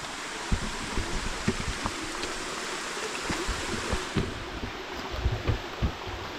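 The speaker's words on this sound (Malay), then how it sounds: "Okey, ni dah anak sungai." A small mountain stream on Gunung Bujang Melaka in Malaysia flows steadily, a constant broadband rush of water with faint splashes scattered through it, close by and with no talking.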